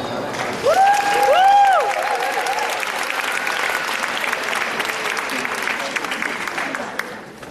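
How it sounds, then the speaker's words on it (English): Audience applause at a cultural gala in a theatre for a local Chinese choir, a dense sustained clapping that swells early, with a few voices and whoops over it, then holds steady before fading near the end. "let's have a wonderful applause for our wonderful Chinese choir"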